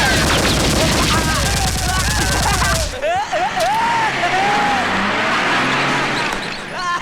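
Rapid bursts of gunfire sound effects fill a Hindi movie fight scene, loud and continuous for the first three seconds, followed by ricochet-like whines, clatter and a busy action soundtrack.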